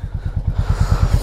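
Royal Enfield Meteor 350 engine running close, a steady low rhythmic thrum that rises slightly as the bike pulls away, no talk.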